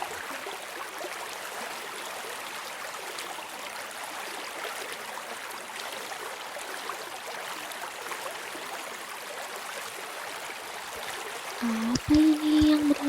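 A river current flows steadily throughout, a constant trickling, gurgling wash of water at moderate level, with a brief tonal sound rising near the end.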